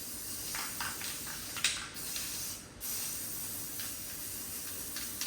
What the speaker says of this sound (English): now we're just gonna spray it